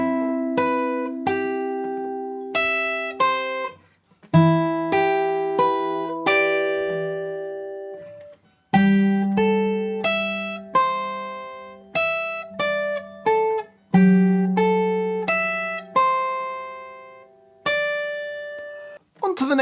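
Solo guitar plays a Minecraft tune as a slow line of plucked single notes, each ringing and decaying, with a few brief breaks between phrases and no talk over the playing.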